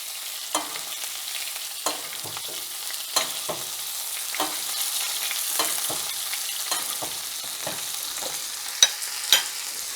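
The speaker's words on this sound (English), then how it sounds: "I'm going to finish these by basting them in some butter and herbs" Lamb loin chops sizzling in butter and herbs in a cast iron skillet, a continuous crackling fry close up, punctuated by sharp spoon clicks and scrapes as butter is basted over the meat.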